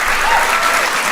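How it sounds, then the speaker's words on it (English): An audience applauding the President of the United States, loud and close, a thick sustained patter of clapping with no speech over it. "can we just give another round of applause to the President of the United States for his leadership on this issue?"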